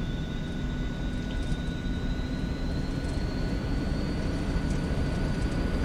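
Aircraft engines in X-Plane 11 held near full throttle for takeoff, a steady loud broadband roar with a rising whine that holds throughout, no talking.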